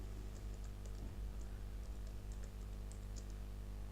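Keys on a computer keyboard tapped in quick irregular bursts while HTML code is typed, soft and close against a low steady hum.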